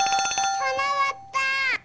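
A telephone rings for an incoming call during a stock-advice call-in broadcast, sounding as an electronic ringtone with a rapid pulsing burst followed by two sustained tonal rings, loud and close.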